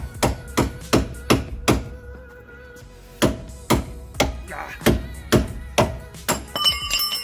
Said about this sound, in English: after you get the castle nut off the tie rod, you just use this pickle fork to separate the ball joint